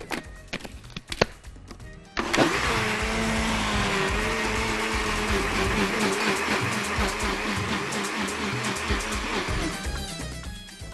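An electric mixer beats eggs and vanilla into cake batter with a loud, steady whirring drone after a few clunks and knocks at the start, running close and continuous with no talking.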